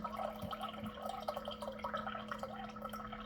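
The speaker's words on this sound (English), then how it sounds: "This is telling me it's giving me some water." A Water First countertop reverse osmosis system dispenses water in a steady, faint trickle with small dripping splashes and a low steady hum beneath.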